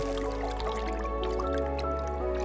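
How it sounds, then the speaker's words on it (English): Animated water wells up and flows from the sand, a bubbling, dripping liquid effect with scattered plops over a steady low hum, close and clear with no talking. "The water kept flowing heavily."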